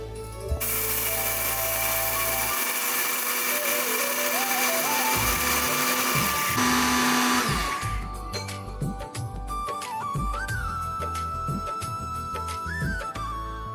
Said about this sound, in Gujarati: સાબુદાણા ઠંડા થાય ત્યારબાદ મિક્સરમાં તેનો લોટ બનાવો